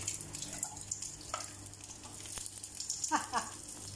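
Food frying in hot cooking oil, a steady crackling sizzle with scattered pops, moderately close, with brief bits of a voice speaking over it.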